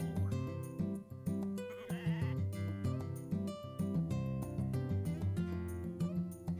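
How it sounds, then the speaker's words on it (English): Sheep bleating in a video game, the cries repeating over a busy game music track that plays continuously underneath at moderate volume. "there's the sheep trying to screw me over"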